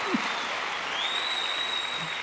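A church congregation applauds during a sermon, a dense, steady clapping that fills the whole stretch at an even, fairly loud level, with a thin high whistling tone drifting in partway through.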